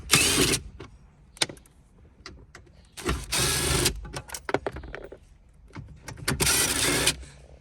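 Power tool loosening 7mm head unit bolts on a Holden Commodore VF dash, several short whirring bursts of one to two seconds with quiet clicks and handling noises between them, close and fairly loud.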